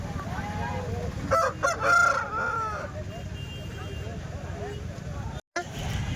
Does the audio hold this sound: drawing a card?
no